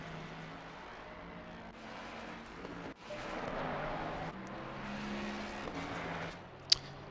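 A race car engine in a racing video game drones steadily at Barcelona-Catalunya, rising and falling slightly in pitch like idling or cruising, with a brief sharp click near the end.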